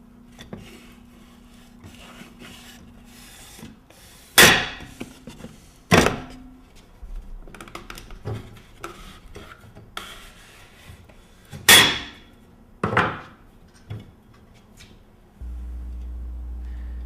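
Wooden blocks being pulled one at a time from under a disc assembly as it lowers onto studs and spacers, heard as several separate close wooden knocks and thunks spaced seconds apart, with a low hum near the end.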